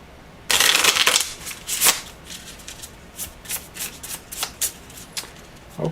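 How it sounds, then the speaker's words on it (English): A deck of playing cards is shuffled by hand for a tabletop card-based hockey game, a loud riffling burst followed by a series of softer, rhythmic card riffles and bridging taps close up. "Give the cards a quick shuffle"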